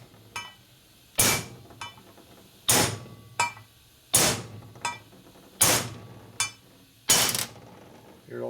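A light hammer taps a driver to seat a bushing in a 1961 Harley-Davidson Sportster XLCH transmission cover, giving sharp metallic strikes, mostly in pairs of a heavy blow and lighter follow-up, repeated five times with short ringing decays.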